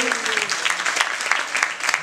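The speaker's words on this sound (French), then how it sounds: "On peut l'applaudir très fort." Steady applause from an audience at the closing ceremony of the 2011 FIFI festival as a prize winner comes down, dense clapping throughout with a faint voice underneath.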